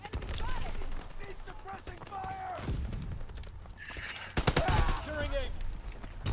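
Bursts of gunfire from a Call of Duty WW2 multiplayer Domination match crackle in rapid volleys, with one sharp loud cluster near the end, under frequent chatter from players talking over the shooting.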